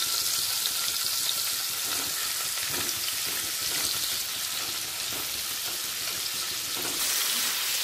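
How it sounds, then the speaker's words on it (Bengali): Pieces of paneer frying in hot oil in a pan for a vegetarian paneer rezala, a steady close sizzle that hisses continuously with no voices. "একে একে পনিরগুলোকে ভেজে নেব।"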